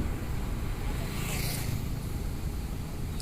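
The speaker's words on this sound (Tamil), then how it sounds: "இது ஒரு ஆறு ஆற்று பாலம் ஆற்றுல தண்ணி வருது சத்தம்" River water rushes under a bridge at the foot of Kolli Hills, a steady broadband roar mixed with wind buffeting the microphone, continuous and fairly loud with no clear voices.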